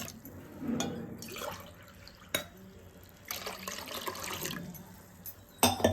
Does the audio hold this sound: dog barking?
no